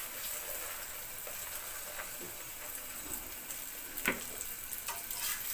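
Aloo paratha fries in ghee on a pan with a soft, steady sizzle and faint crackle, a few brief clinks and scrapes rising above it near the end.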